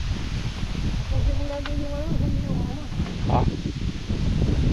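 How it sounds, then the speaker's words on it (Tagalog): Wind blows across a farm field with long-bean vines, rumbling and buffeting the microphone steadily, with brief voices speaking over it. "Buti na lang mahangin no?"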